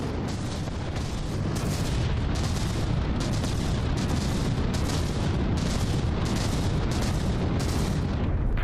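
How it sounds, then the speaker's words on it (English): The Project Broadsword frag weapon in From the Depths fires again and again, loud and steady, its regular rhythm of bright bursts repeating about every half second over a heavy, continuous rumble of battle. "the Project Broadsword is really providing some good continuous frag damage firepower there"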